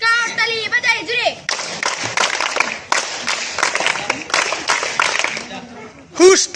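Schoolchildren clap loudly in a fast, steady burst after a short stretch of singing, the applause filling several seconds before a single voice rises at the end.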